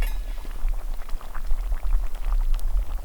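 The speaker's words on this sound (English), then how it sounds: "It's good enough. That's boiling." Water boiling in a pot at a rainy bushcraft camp, a steady bubbling and hissing simmer heard close up and alone, with no talk over it.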